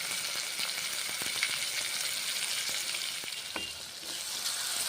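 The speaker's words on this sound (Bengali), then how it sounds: "নেড়ে ছেড়ে মশলাগুলো কষে নিচ্ছি।" Spices sizzle in hot oil in a wok, with an even crackling fry and a few scraping stirs, close and fairly quiet, and no talking.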